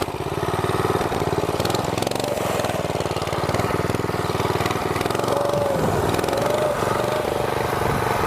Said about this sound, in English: Just spinning the back tire there.